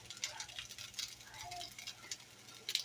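Fried rice cooking in a pan, a soft steady sizzle with light stirring scrapes and ticks running throughout at close range.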